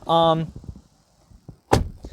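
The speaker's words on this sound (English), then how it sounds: "But still closing the door, still sounds solid." Door of a 2020 Ford Escape shutting with a single solid thud, loud and close, preceded by a brief hum and soft handling noises.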